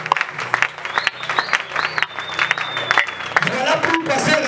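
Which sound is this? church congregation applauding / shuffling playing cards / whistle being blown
church congregation applauding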